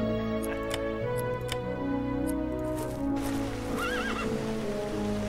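A horse in the video game Hero of the Kingdom 3 gives a clear, loud whinny, set against a steady layer of game music and light patter like rain or hooves.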